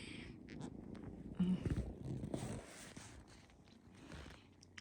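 Several kittens purring close up, a steady soft low rumble with small rustles and shifting as they climb on a person, no talking.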